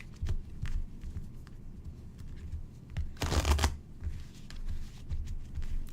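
Tarot cards are shuffled with quick riffling flutters, one louder riffle in the middle, under quiet room noise.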